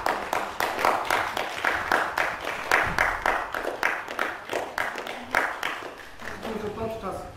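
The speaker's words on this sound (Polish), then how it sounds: "chciałbym prosić o ogromne brawa dla artystów" An audience claps for the performers at a children's fairy-tale stage show, dense, steady applause with a rhythmic pulse that runs the whole time and thins slightly near the end.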